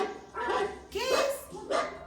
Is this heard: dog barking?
yes